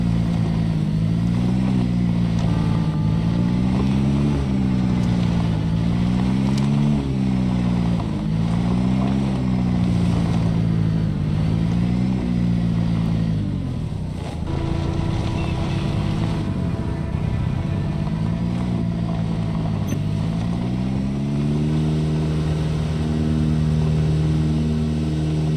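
A car engine in the zombie survival game Project Zomboid, revving up and down in repeated waves as it drives, loud and close with a steady low rumble and gear-like pitch swings.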